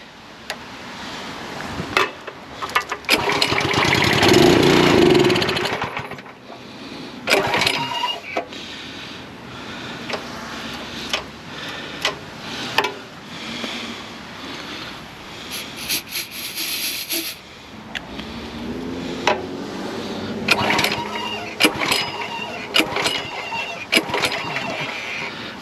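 Simpson 3600 psi Powershot pressure washer with bad fuel: repeated pull-cord starting attempts, the small engine sputtering and catching briefly, rough and uneven up close, with a longer rattling run at the start.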